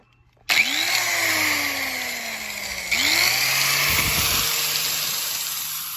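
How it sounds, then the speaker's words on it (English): An angle grinder whines loudly while grinding off a rivet on a wooden sailboat, spinning up twice with rising pitch and then holding a steady, harsh, close-up drone; no voices. "I'll have to grind this rivet off. So let me do that now."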